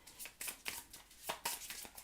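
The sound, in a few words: shuffling tarot cards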